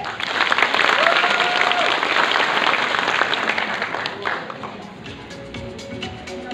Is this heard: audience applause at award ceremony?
yes